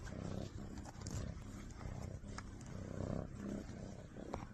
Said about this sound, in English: you got to hear this guy purr